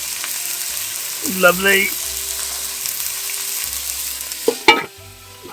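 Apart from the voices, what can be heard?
food frying in a pan being turned over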